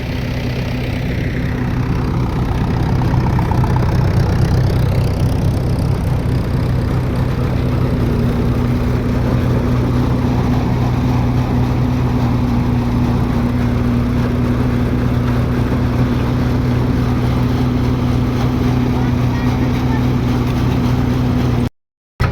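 A John Deere tractor engine runs steadily nearby, a loud low droning rumble that holds constant throughout before cutting off abruptly at the end.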